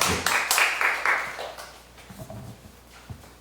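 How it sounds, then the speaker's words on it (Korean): Applause from an audience welcoming a speaker at an agreement-signing ceremony, a burst of clapping loudest at the start and thinning out over a few seconds. "박수로 청해 듣겠습니다."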